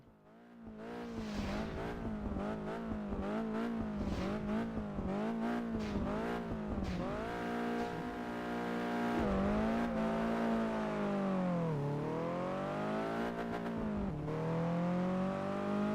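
In the racing game Test Drive Unlimited 2, a Mercedes race car engine revs hard with rapid up-and-down gear changes, and a sustained high whine rises and dips, loud and continuous with no talk.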